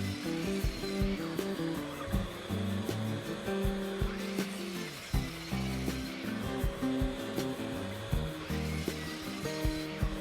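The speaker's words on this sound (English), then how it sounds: "the miter saw." Miter saw cutting poplar lumber in a woodshop, with repeated loud whining bursts of the blade biting through the boards and brief pauses between cuts.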